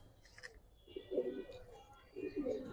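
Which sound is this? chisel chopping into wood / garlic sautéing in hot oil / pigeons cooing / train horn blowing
pigeons cooing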